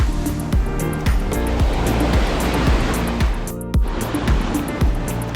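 Surf rolling onto Seven Mile Beach, Grand Cayman, with broken, sand-stirring waves; a continuous wash of water with repeated low thumps as waves break close by, steady and fairly loud, no talking.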